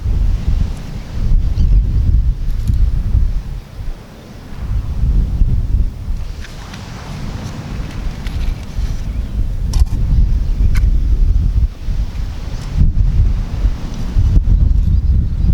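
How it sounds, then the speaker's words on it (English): Steady, loud wind buffeting the microphone outdoors, a low rumbling roar that gusts and eases throughout, with a faint wash of surf underneath. "it is a bit windy"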